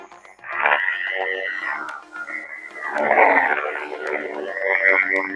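A DamienSaber original-design lightsaber gives a deep, guttural hum with swelling, wavering swings across several seconds, loud and close with no talk over it.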